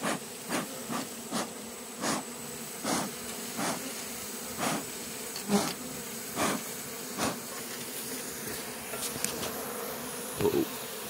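Honeybees from an open air colony humming in a steady close buzz, with individual bees whizzing past at intervals and a few soft knocks.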